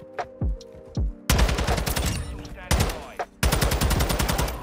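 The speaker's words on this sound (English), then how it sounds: "Start shooting Kirk." Gunfire in Call of Duty: Modern Warfare II ranked play: a few sharp single shots, then loud sustained automatic bursts with a short gap, rapid and close, with no talking.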